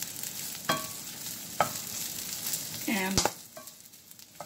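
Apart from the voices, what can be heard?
food frying and being stirred in a pan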